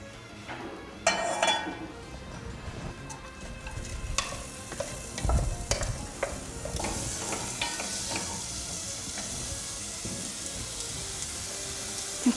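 Oil frying in a pan, a continuous close sizzle with intermittent stirring scrapes and light clinks throughout.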